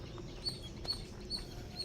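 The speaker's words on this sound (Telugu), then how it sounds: "ఆ పక్షుల కూతలు వినండి." Birds call outdoors during a Sunday trip, with short high chirps repeating about every half second at moderate distance over a low background rumble, and no voices.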